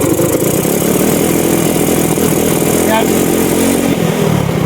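A motorcycle engine with a battery problem and a misfire revs briefly, running loud and steady under a man's speech, with a short rise in pitch near the middle.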